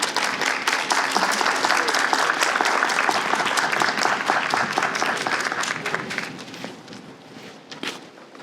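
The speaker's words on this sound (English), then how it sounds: "Let's give another round of applause for Miss Fifi Handy." Sustained audience applause at a literary competition reception, loud and dense for several seconds before gradually thinning into scattered claps, with faint shuffling steps underneath.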